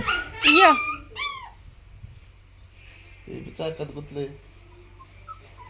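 A dog whimpers with high, wavering whines up close, then a person speaks while crickets chirp in the background.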